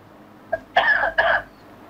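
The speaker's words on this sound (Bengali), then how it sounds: "আপনি একটু জোরে কাশি দেন।" A man with a lower back injury gives two loud, close coughs in quick succession after a short throat sound, with no talk.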